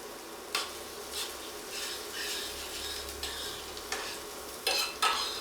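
Ginger sizzling in hot oil in a pan while being stirred, a soft steady frying hiss with occasional scraping and clinks of the utensil against the pan, close but quiet.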